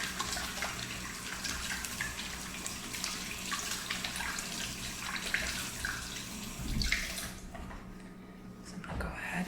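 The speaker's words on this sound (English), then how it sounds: "And of course, wash your hands." A kitchen tap runs steadily in a quiet, close, ASMR-style recording while hands are washed, with a brief gurgling splash near the end.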